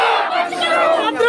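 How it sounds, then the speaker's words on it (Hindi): A dense crowd of job candidates at a protest shouting slogans together, loud and close, as one continuous roar of voices. "पंचायत सचिव की जो अभ्यर्थी है नारे लगा रहे हैं, इतनी भीड़ में जुटी हुई है यहाँ पर"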